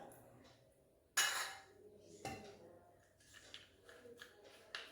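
A spoon stirring and clinking against a bowl of aloe vera gel, rice flour and milk, with two sharp, loud clinks followed by quieter scraping and tapping.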